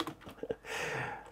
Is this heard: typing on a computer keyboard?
yes